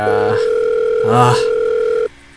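A phone-call tone from the visual novel game Doki Doki Blue Skies: a loud, steady electronic tone holds for about two seconds with a brief warbling burst midway, then cuts off abruptly.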